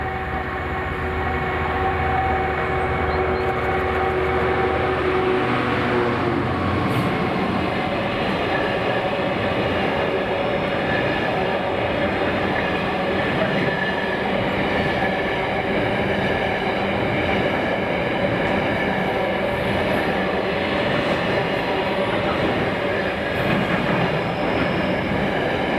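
A trial freight train passing Baillieston, Scotland, rolls by with a continuous heavy rumble and the rhythmic clatter of wagons, loud and close for nearly half a minute.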